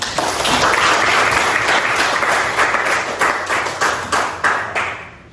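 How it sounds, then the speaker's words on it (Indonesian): A high school economics class claps together in a loud, close burst that thins toward the end into a handful of distinct, rhythmic individual claps before stopping. "beri aplaus untuk kita semua"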